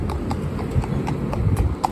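A Fell pony's hooves clip-clop at a steady walking rhythm, crisp regular knocks at moderate distance over low rumble, with a voice faintly in the background.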